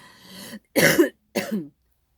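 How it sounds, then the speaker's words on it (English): Three harsh coughs in quick succession, close and loud, the first weaker and the next two forceful, then silence. "I had to pause to cough my brains out"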